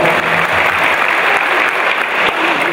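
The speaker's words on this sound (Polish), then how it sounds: "Wielkie brawa, szanowni państwo" Loud, sustained audience applause fills the hall at a speedway team presentation for KS ROW Rybnik, dense clapping throughout with no speech over it.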